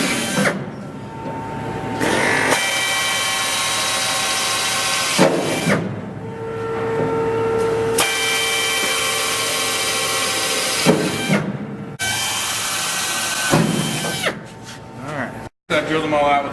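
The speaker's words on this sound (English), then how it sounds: "just go ahead and start my drilling all the way through with an 1/8 inch bit" A power drill with a 1/8 inch bit bores through spot welds in the steel floor pan of a 1967 El Camino, whining in repeated bursts of a few seconds each with short pauses between, loud and close.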